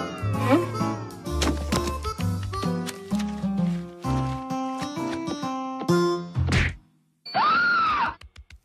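A cartoon cat meows in a short, drawn-out cry at the end, after a stretch of lively orchestral music punctuated by whacks and crashes.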